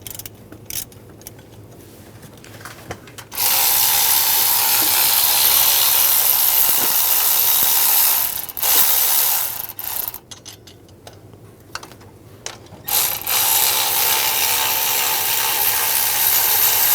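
Ratchet with a 15mm socket working the two tensioner bolts loose on a 2007-2014 Cadillac Escalade 6.2L V8, giving long stretches of steady, loud clicking broken by short pauses, with no voices.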